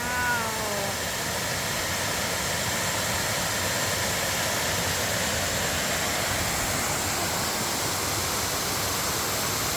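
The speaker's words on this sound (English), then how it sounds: "Check out this little waterfall here at Sliding Rock." Water rushes steadily over Sliding Rock in Pisgah National Forest, North Carolina, a loud, unbroken broadband roar close by, with a faint call or voice briefly at the start.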